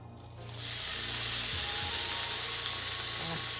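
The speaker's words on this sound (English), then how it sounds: "Listen to that sizzle, just wonderful." Korean kalbi ribs laid onto a hot oiled grill, the sizzle flaring up loud and close within half a second and then holding as a bright, dense, continuous crackle.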